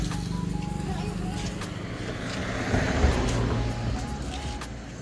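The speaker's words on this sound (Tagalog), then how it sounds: "Sine-check na nila yung makina." A vehicle engine idling steadily while mechanics check it, hot from a trip, with a low rumbling drone under people talking nearby.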